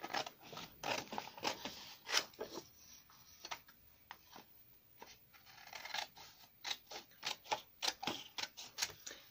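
Scissors snip through paper in a quick series of sharp, close cuts, irregular at first and then a steady rhythmic run of snips toward the end, with no talking.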